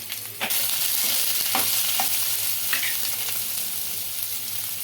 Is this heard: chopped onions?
yes